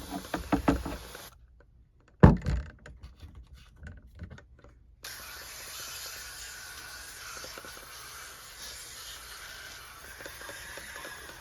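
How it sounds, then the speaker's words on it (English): Hand sprayer rinsing Evap Power cleaner off a dirty, deteriorating evaporator coil in a Trane air handler: short spurts and clicks, one sharp hit, then a steady soft hiss of spray running for several seconds. "I've got the Evap Power mixed up in the sprayer here, so I'm going to go ahead and just rinse the rest of it away with this."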